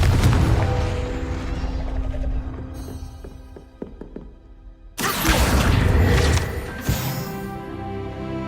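A Confringo blast spell explodes in Hogwarts Legacy with a loud, sudden burst and crackling roar, following a quieter stretch of a few sharp clicks and fading back to ambience.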